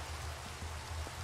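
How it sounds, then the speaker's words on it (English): Steady rain falls outdoors as a dense, even hiss with occasional soft drop patters, moderately loud and constant throughout, with no voices. "It starts raining."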